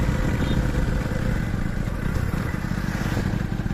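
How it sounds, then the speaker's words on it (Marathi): A motorcycle engine runs steadily at close range, a continuous low rumble with a slight rattle and no voices. "लगेचच बाईक घेतली"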